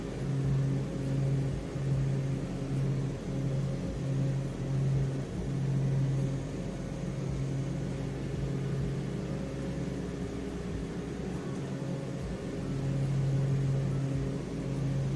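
An aircraft engine hums at a steady, moderate level as its RPM is pulled back, a continuous droning tone with a low rumble beneath and no talking.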